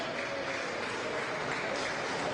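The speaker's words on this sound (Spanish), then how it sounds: "quienes reciben al presidente Pedro Castillo entre aplausos y le dan la bienvenida" Applause from members of Peru's Congress welcoming President Pedro Castillo in the chamber, a steady, dense wash of clapping that holds evenly through the moment, with faint voices mixed in.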